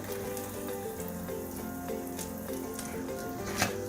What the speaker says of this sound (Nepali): र अर्को साइडबाट पनि हामी यस्तै रातो रातो हुने बेलासम्म यसलाई फ्राई गर्ने छौं।